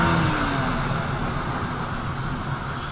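A 2021 KTM Duke 125 BS6 motorcycle accelerates in third gear with a continuous, fairly loud engine drone under rushing wind noise, its pitch shifting slightly at the start.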